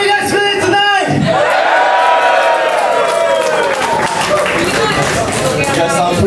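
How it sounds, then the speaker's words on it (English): A wrestling event crowd cheering loudly and steadily, with whoops and clapping forming a dense roar while someone speaks to them over a microphone. "You guys are cheering too loud, I can barely hear"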